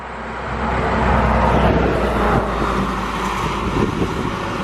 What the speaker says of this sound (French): Regardez-moi ce camion.